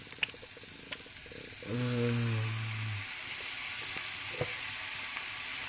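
Meat sizzles steadily in a hot pan in a home kitchen, a continuous close hiss throughout, with a brief low humming tone rising and fading partway through.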